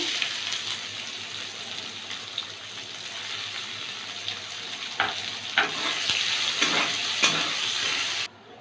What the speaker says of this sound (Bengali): হাফ চামচ সাদা জিরে ফোড়নটা ভেজে নিয়ে দুটো কুচনো পেঁয়াজ দেবো